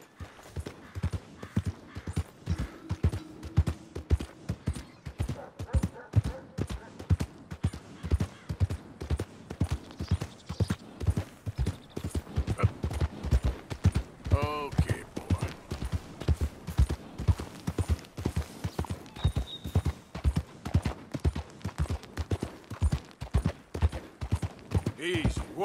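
Steady clip-clop of horse hooves at a walking pace in the video game Red Dead Redemption 2, continuing throughout, with occasional voices and faint background effects.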